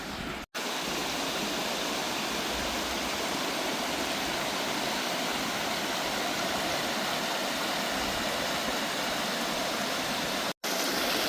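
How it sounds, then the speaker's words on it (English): A small woodland brook flows steadily, a continuous close rushing and burbling of water with no voices, briefly cut at the start and near the end. "A little bit of a river or something, or a brook."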